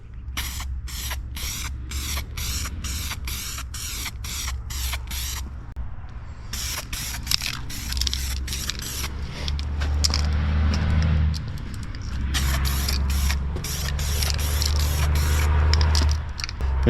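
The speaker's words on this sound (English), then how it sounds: "It sprays very well. Doesn't seem to be prone to running." An aerosol can sprays coating onto a 1952 Willys pickup in a series of short hissing bursts, then longer steady sprays, loud and close, over a low hum.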